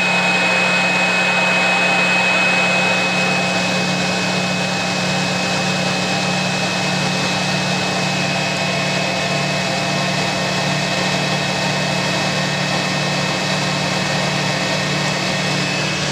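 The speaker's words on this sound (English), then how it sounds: "all you can hear is the Hoover" A twin tub washing machine, a Hoover 3021, runs with a steady mechanical whir and low hum, continuous, loud and close, droning without pause.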